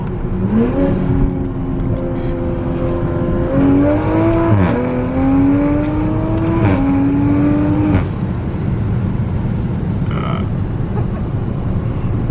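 A tuned Toyota Supra MK5 pulls hard in second gear, its engine revving up in rising sweeps with brief breaks at the shifts, loud and close inside the cabin before settling toward the end.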